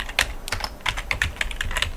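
Fingers type on a computer keyboard, a quick, uneven run of crisp key clicks close to the microphone with nothing else heard.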